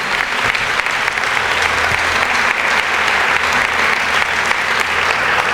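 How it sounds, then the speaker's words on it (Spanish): Church congregation gives loud, vigorous applause, a continuous wash of clapping hands with a faint murmur of the crowd beneath, sustained throughout. "Dale ese aplauso bien fuerte al Rey de la Gloria"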